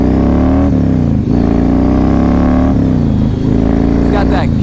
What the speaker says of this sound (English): It's got that killer sound of that ginormous V-twin.